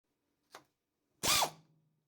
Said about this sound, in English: For this, I will use this nibbler.